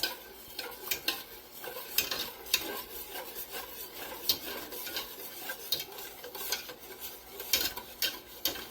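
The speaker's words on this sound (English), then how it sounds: "I'm adding about a half a cup at a time to whisk it" A whisk scrapes and stirs briskly in a pot as liquid is worked into a roux for broccoli cheddar soup, giving repeated rasping strokes and metallic clinks in an uneven rhythm, close up and fairly quiet, with no talking.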